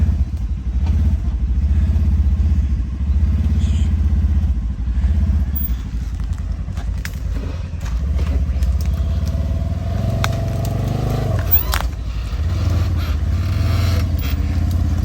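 A UForce 1000 side-by-side drives through rainforest with a steady, close engine drone. Clattering and crunching from rough terrain come through, and there is a brief rev change near the end.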